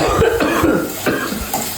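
A person coughs several times in quick, harsh bursts, loud and close, with a rough throaty rasp.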